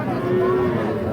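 Three-month-old bull calf mooing briefly at a busy rural cattle market, a single close, drawn-out low moo with crowd chatter behind it.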